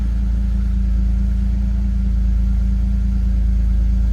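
A cold BMW E31 850i engine idles steadily, a smooth, even low rumble held close and continuous with no revving or voices.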